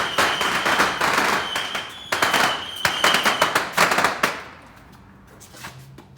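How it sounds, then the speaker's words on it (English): Fireworks going off across the street make a rapid string of sharp cracks and pops for about four seconds, loud and reverberant, then a few scattered, fainter bangs as the barrage dies down. "The people across the street have decided they want to shoot off fireworks."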